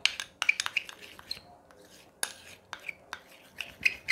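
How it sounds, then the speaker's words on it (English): Colgate toothpaste and Vaseline being mixed together, with a quick run of soft scraping and rubbing strokes at an uneven rhythm, heard close and fairly quiet. "You mix them very, very well."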